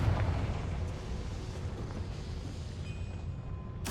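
Confringo blasting spell going off in Hogwarts Legacy, a dense, rumbling explosion with a heavy low-end roar that holds steady for several seconds before a sharp crackle at the end.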